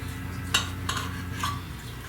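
Cutlery cuts through roasted sweet Italian sausage on a plate or sheet pan, a few light scrapes and clicks over a low background hum, brief and close.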